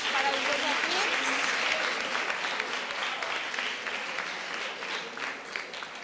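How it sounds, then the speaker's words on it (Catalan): A quiz show studio audience applauds both competing teams, a dense, loud burst of clapping that gradually thins and fades over several seconds, with a voice faintly underneath. "Fora aplaudiment per als dos equips."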